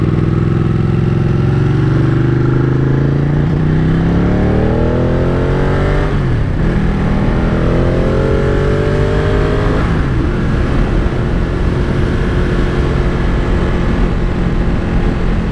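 A 2017 Ducati Panigale 959 roars loudly and steadily at close range while riding, its engine pitch climbing through rising revs, dropping sharply at each gear change, and then climbing again.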